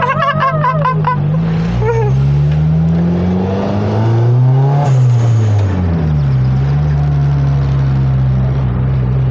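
Turbocharged Honda Civic Estilo engine pulling hard from inside the car, a loud steady drone that rises in pitch, drops briefly at a shift near the middle, then climbs again.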